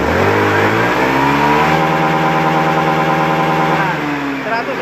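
A Beat eSP motorcycle engine, its EOT sensor socket unplugged, revs up loudly from idle and holds at high RPM with a strained, buzzing drone before easing slightly near the end.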